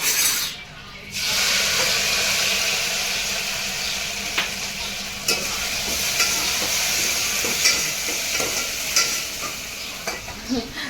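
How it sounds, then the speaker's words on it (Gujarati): Poha tempering sizzles steadily in a pan at home, a continuous frying hiss with stirring scrapes and small crackles throughout, briefly dipping near the start; faint voices sit under it. "અહીંયા થાય છે વઘાર પૌવાનું"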